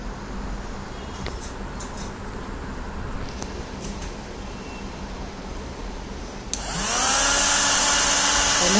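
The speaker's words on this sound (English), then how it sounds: "look here, vacuum has turned on." A steady mechanical whir hums along, then a solar floor-cleaning robot's vacuum motor switches on with a click and a louder, higher-pitched whine that holds to the end.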